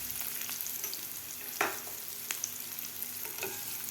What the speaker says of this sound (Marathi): आता हे बटाटेसुद्धा आपले व्यवस्थित खालच्या तेलामध्ये हलवून घ्यायचे आहेत, चांगले मिक्स करून.